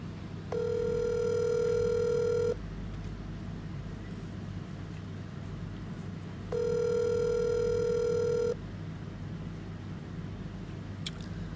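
An outgoing telephone call rings while waiting for someone to answer: two separate ring tones, each about two seconds long, with a long pause between them over a low steady hum.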